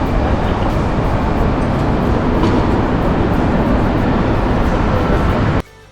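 A loud, steady rumble of a tram in motion in Zurich, Switzerland, dense and continuous, ending abruptly near the close.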